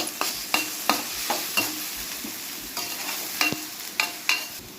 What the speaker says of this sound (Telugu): టమాటా ముక్కలు మెత్తబడేంత వరకు ఫ్రై చేసుకోవాలి